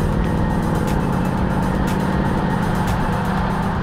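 A Land Rover Defender 90 with a V8 engine drives steadily, its low engine drone and road rumble loud and continuous throughout, with no voices.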